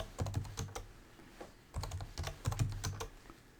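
Mac computer keyboard keys tapped in two quick bursts while a password is entered, close and fairly quiet, with a short pause between the clusters of clicks.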